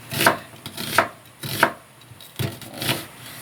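A knife chops onion on a board in a home kitchen, with five separate thuds spaced about half a second apart at close range and no voices.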